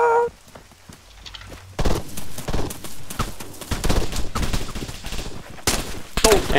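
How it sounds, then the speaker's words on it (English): Dense gunfire rings out in an Arma 3 military battle. After a quiet opening, a prolonged fusillade of overlapping rifle and machine-gun shots follows, loud and continuous, with distant cracks and echoes. "Enemy fire! 100 meters southwest."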